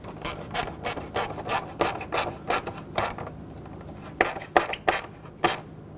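Metal hose clamps being tightened by hand on a 2011-2016 Ford F-350 6.2L V8, giving a run of short, close rasping and ratcheting strokes in an uneven rhythm, with a brief pause before a few final firm turns.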